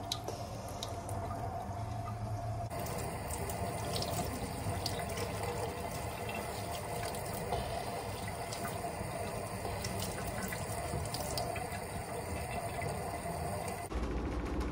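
Tap water runs steadily into a sink while pothos roots are rinsed during repotting, a continuous close splashing stream with faint drips, and no talking.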